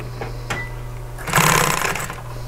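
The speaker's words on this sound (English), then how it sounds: "what I need to do is bring these last two edges together and go ahead and sew them" Sewing machine stitching the last two edges of upholstery fabric together for a cube, a short close burst of rapid mechanical chatter lasting under a second over a steady low hum, with no talk.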